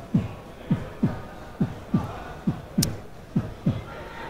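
A video game heartbeat sound effect thumps in a steady, evenly spaced rhythm, about nine low beats over a few seconds, set against faint crowd and background noise.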